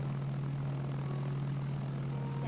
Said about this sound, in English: we're gonna spawn a airplane